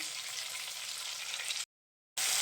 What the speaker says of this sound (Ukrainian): Так, зараз трошки цибулька теж підсмажиться